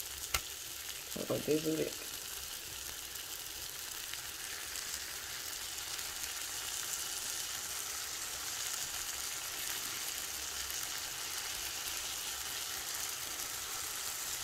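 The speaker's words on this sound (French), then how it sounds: "C'est là qu'on vient ajouter notre demi-jus de citron." Lemon juice sizzles in a pan with grilled beef steak, a steady hissing fry lasting the whole stretch, while a brief spoken apology interrupts near the start.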